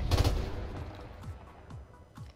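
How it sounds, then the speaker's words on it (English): Desert Eagle pistol shots in the video game Modern Warfare Remastered: a loud close blast opens, followed by several sharper, quieter shots spaced at roughly even intervals. "Hit him with the deagle."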